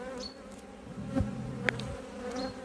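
Agitated honeybees humming at an apiary hive, a steady close drone with individual bees buzzing past, moderately loud and continuous with no talking.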